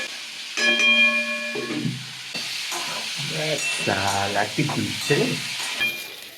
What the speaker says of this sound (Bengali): পনিরের জন্য কেটে রাখা আলুটা আমি দিয়ে দিচ্ছি ভেজে নিচ্ছি